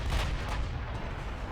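Heavy battleship shell fire and impacts in the naval warfare video game Ultimate Admiral: Dreadnoughts, a deep, booming rumble with a sharp blast at the start fading into a sustained low roar.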